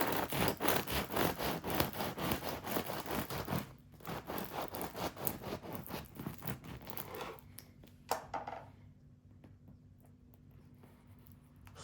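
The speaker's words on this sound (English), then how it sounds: "Let's cut into it to see how's the crumb" A knife sawing into a crusty sourdough loaf made with a pineapple juice starter, a rapid rhythmic crackling rasp of crust that slows and softens as the blade passes through the crumb, close and alone.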